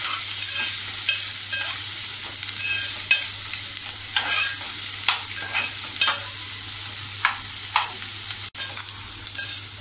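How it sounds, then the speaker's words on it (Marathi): Onions sautéing on medium gas for a Malvani ridge gourd and fresh coconut dish, a steady hiss of frying with intermittent spatula scrapes and taps, close, with a low hum underneath. "असं आपण याला मीडियम गॅसवर असं छान असं कांदा थोडा लालसर होईपर्यंत परतूया."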